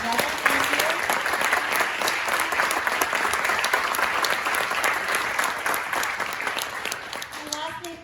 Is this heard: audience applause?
yes